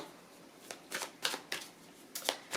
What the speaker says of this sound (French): La première carte que nous allons tirer, c'est... je vais prendre la carte du mental